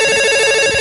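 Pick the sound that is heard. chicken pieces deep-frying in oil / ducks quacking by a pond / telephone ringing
telephone ringing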